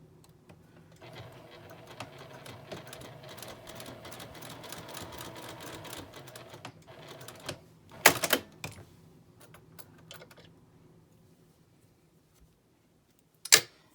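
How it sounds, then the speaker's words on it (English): A domestic sewing machine runs a top stitch across fabric, a quiet rapid whirring patter for several seconds, followed by a few sharp clicks and clunks and then silence before one last knock. "So I'm going to sew a little top stitch across the bottom here just for a nice little detail."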